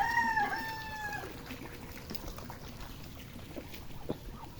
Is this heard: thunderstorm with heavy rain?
no